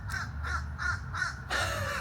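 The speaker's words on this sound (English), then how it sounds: "These birds are really very vocal this morning." Crows caw in a steady series of four harsh calls at a moderate distance, followed by a louder, more drawn-out call, all outdoors on a quiet morning with no talking.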